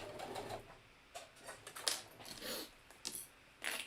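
A sewing machine stitches a quarter-inch seam around a hidden-zipper pillow, running in short, faint, intermittent bursts of mechanical whirring separated by brief pauses.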